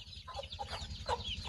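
Hens with chicks in cages cluck close by in short, irregular calls, with steady low background noise underneath.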